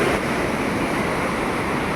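Ocean waves and wind at Manukan beach at low tide, a steady loud wash of surf with gusting wind buffeting the microphone, no voices.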